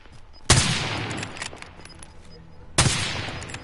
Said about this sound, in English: Oh, this guy's shooting somewhere.